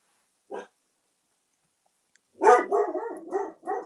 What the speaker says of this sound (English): Please stop barking, Ham.